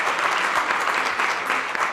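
An audience applauding a jazz band at a Smithsonian Jazz Appreciation Month event, dense, continuous clapping from a large crowd, loud and even for the whole stretch.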